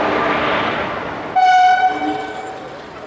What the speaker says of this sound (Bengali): এই যে আমাদের ট্রেন শেষাদ্রি এক্সপ্রেস WAP 5 দিয়ে রান করছে